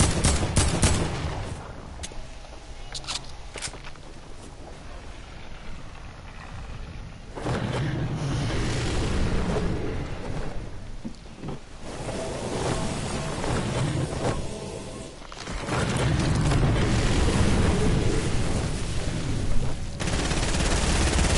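Gunfire fills a video game match, with repeated bursts of automatic fire and single loud shots coming in waves and clusters amid engine-like rumble over about twenty seconds.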